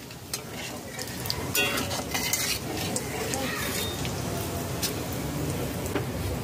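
Whole spices and dried chillies are stirred in hot oil over low to medium flame, a steady sizzle broken by scraping clinks of a spoon against the pan.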